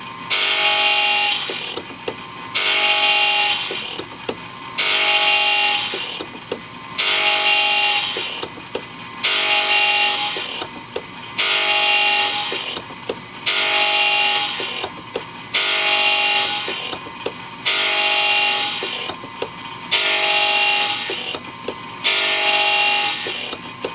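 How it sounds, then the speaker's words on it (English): Machine cutting teeth into Oroku wooden combs in Kiso Village, Shinshu, a loud close whirring rasp repeating in regular passes of about two seconds each with short gaps, continuing steadily throughout. "we observe the techniques of machine toothing"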